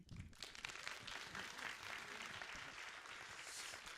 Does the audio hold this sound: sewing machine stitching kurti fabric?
no